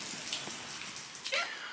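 Rain patters on surfaces outdoors in a yard, a soft continuous spatter with a few sharper drips, fairly quiet and without speech.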